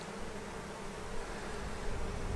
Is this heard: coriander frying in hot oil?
no